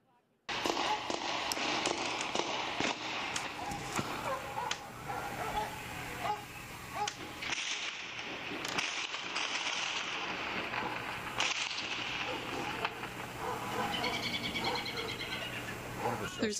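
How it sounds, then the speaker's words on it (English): Sharp bangs and crackling pops of explosions and gunfire from a firefight between police and bombing suspects ring out repeatedly over a tense, noisy outdoor scene, some near and loud, others further off, with a voice occasionally heard. "There's explosions and gunfire."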